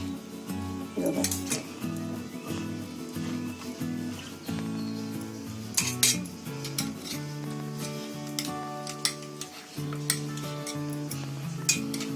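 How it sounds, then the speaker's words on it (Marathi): A knife scrapes and knocks against a hot metal pan, loosening vermicelli modak, with repeated clinks and sharp metallic taps over a faint sizzle and a hum in the background. "गरम आहे, जरा असे सुरीने हलवून बघायचे"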